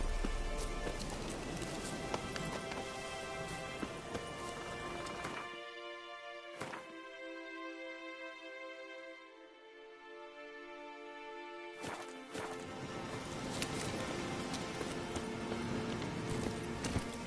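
Horse hooves clip-clop in a steady rhythm in a video game, over a bright musical backdrop that drops out briefly midway before the hoofbeats and music return.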